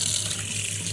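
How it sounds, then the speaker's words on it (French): Tap water rushing steadily from a faucet over trout fillets being rinsed in a sink, a continuous close splashing spray. "on va rincer la truite"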